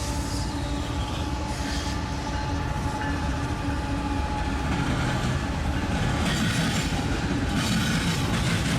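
A freight train rumbles past in Cordele, Georgia, with wheels clattering and occasional high metallic squeals over a steady low roar, loud and close throughout.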